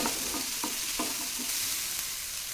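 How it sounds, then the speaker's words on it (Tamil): Grated coconut being stirred and sautéed in a frying pan for a village-style country chicken curry, a soft continuous sizzle with several short scraping stir strokes, close and quiet, no talk. "இதை சேர்த்துட்டு நல்லா வதக்கி எடுத்துக்கோங்க"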